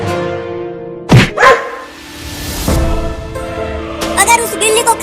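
A cartoon dog barks twice in quick, loud yaps, with other cartoon sound effects and voices around it.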